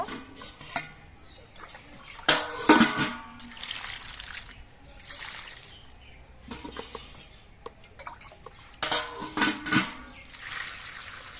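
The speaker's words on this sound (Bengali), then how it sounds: "এবার এই সবজিগুলো আমি ধুয়ে নেব" Chopped winter vegetables being rinsed in water for a mixed khichuri, irregular splashes, trickles and sloshing in bursts with quiet gaps, close and moderately loud.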